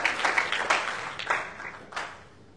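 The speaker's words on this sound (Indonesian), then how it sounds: "Tepuk ini luar biasa." Audience applause at a church gathering during a sermon: a dense spatter of hand claps that peaks in a few swells, then thins and fades over a couple of seconds.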